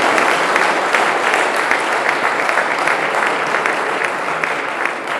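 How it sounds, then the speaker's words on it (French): A crowd at a sports match claps steadily while a player is introduced, with dense, sustained applause that keeps the same level from start to finish. "Merci d'applaudir Peter Wilson, numéro 56 national."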